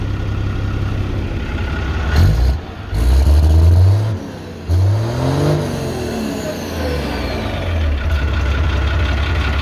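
An Isuzu diesel engine in a K30 tow truck, still cold, revs up in several short bursts from a rough idle, loud and close, each rise climbing in pitch and then dropping back.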